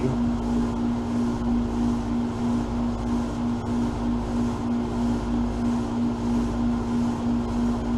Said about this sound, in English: Sorry about the air conditioner noise